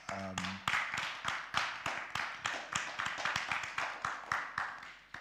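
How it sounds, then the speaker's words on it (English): Audience applause after a contemporary art discussion on spiritual renaissance, a dense patter of many hands clapping steadily for about five seconds in a hall, following a brief spoken word at the start. "So please, a round of applause for our speakers."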